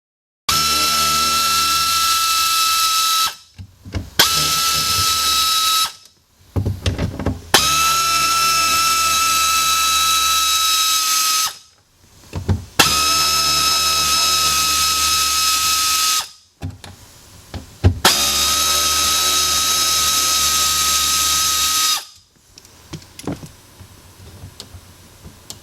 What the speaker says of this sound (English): Next will be to remove the wires and the 5 screws that hold it in.